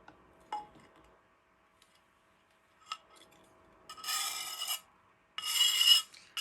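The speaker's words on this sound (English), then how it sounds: "You got to scrape that edge of that paint off of these tiles." Paint is scraped off the edge of poured-paint fluid art tiles, heard as two sustained rasping scrapes with a few light taps and clicks before them, close and fairly quiet.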